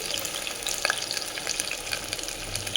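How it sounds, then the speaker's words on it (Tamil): Garlic and onion sizzle in hot mustard oil for a garlic tamarind curry, a loud, steady, crackling fry heard alone and close. "பூண்டு வெங்காயம் ரெண்டையும் போட்டுக்கோங்க."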